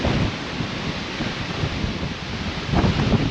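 Strong storm wind over the North Thompson River, heard from a Solar 470 Super Jet boat: a loud, continuous roar buffeting the microphone, swelling again near the end, with no talking.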